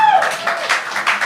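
Audience at a French-language comedy show on Le Gong Show claps in a short run of quick, evenly spaced bursts, fairly loud and close, with a hint of voice at the very start.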